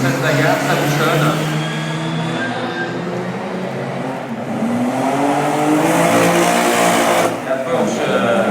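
Race cars, among them a Porsche 900, battle in close traffic at the Circuit des remparts, their engines droning loudly and steadily throughout with pitch swells as they pass, under a commentator's voice.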